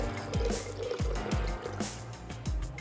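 About half a glass of water is poured into a mango ice cream mixture with squeezed lemon, giving a close series of quick glugging splashes in an uneven rhythm.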